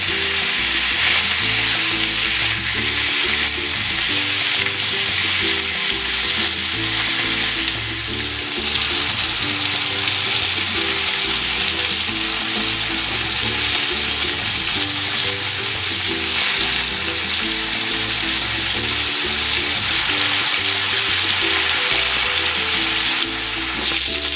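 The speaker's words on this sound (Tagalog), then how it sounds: "Maglalagay ako ng konting cooking oil. Sasangkot ko muna itong chicken." Chicken sautéing in a little cooking oil for Filipino adobo gives a steady, loud, continuous sizzle and crackle of frying that runs for the whole stretch, with occasional stirring noises and no talking.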